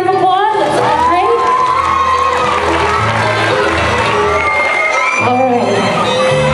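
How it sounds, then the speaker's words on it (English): A school assembly crowd of children cheers and claps for a trick roping show, loud shouts and whoops layered over applause in a busy, sustained roar that dips briefly before surging again. "Give them one more round of applause."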